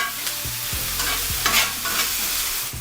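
Onions, peppers and garlic frying in a pan for a cheesesteak, a steady close sizzle broken by repeated scrapes and stirs of the utensil through the vegetables.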